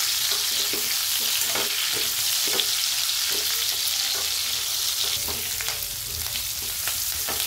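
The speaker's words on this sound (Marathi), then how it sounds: "आता मिरचीला आपण परतून घेऊ" Stuffed capsicum (bell peppers) fry in hot oil, a loud continuous sizzle close up with soft repeated scrapes as they are turned and stirred.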